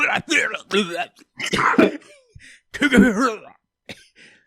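A man imitates someone coughing up blood: harsh, wet, hacking coughs and throaty gurgles close to the microphone.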